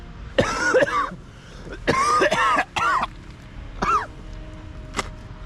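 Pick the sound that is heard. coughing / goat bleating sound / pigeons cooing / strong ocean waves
coughing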